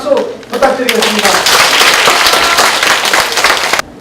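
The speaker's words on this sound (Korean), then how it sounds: "여러분 큰 박수 부탁드리겠습니다." Loud, dense applause from an audience at a school-violence-prevention volunteer training session, rising quickly after a brief spoken introduction and holding steady for several seconds before cutting off sharply.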